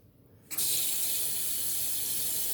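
Tap water gushes into a sink in a steady loud stream, starting abruptly after a brief quiet moment and running on unbroken while something is rinsed.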